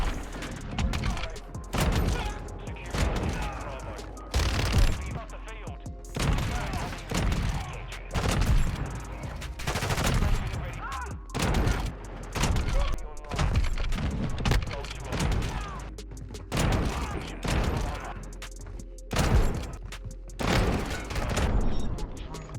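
Rapid bursts of gunfire from the Mark II in the Modern Warfare 2 beta, dense repeated shots and booms throughout, loud and close, with a voice talking over much of it.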